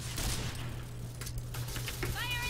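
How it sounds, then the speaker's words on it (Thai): Bursts of gunfire sound in a first-person shooter game with an AUG A3 rifle, rapid cracks clustered near the start and scattered later over a steady hum. "ยิงแล้วปะทะกันแล้ว"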